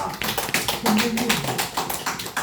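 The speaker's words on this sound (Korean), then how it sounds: "박수 한번 쳐주세요." Audience at a talk in Seosan clapping in response to the speaker, a short, brisk patter of hands in uneven bursts, with voices mixed in.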